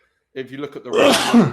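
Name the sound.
sneeze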